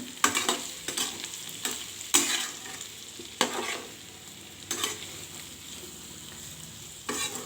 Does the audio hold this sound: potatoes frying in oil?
yes